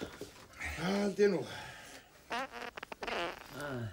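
A comic fart blamed on eating berries, heard in an Icelandic sketch as a brief burst between voices, with people talking before and after it.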